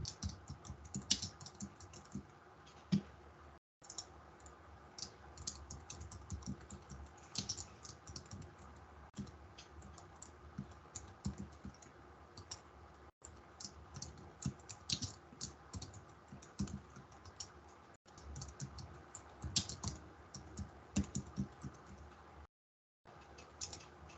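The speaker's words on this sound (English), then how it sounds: "And now I'm going to start typing my copy." Steady typing on a computer keyboard, rapid irregular key clicks with brief pauses, close and fairly quiet, no voices.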